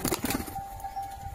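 A female Madrasi pigeon flaps its wings in a quick burst of beats as it is let go near the ground, then settles into quieter shuffling.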